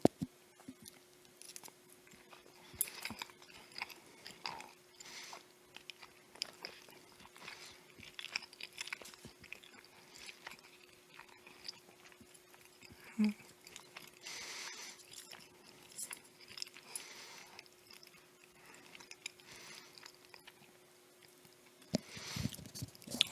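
Someone chews sushi topped with dill cream cheese: soft, irregular close-up crunching and squelching bites scattered over a quiet background with a faint steady hum, and no talking.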